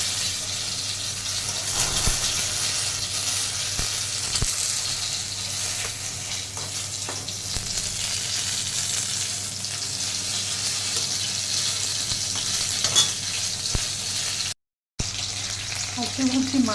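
Fish sizzles and crackles steadily in a pan of hot oil, close and continuous, with occasional clinks and stirring sounds.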